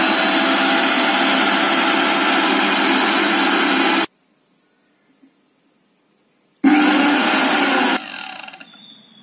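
A Bajaj mixer grinder runs loud and steady for about four seconds, falls silent, then starts again for a short burst before winding down to a fading whir.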